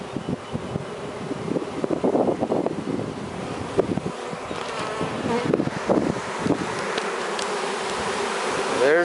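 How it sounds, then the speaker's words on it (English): A freshly installed package of Italian honey bees hums in a new hive, with dense, close buzzing of many insects, wing passes drifting near and away, and light wind rumbling on the microphone. "There's the bees that we put in there. This is a whole new bee colony now."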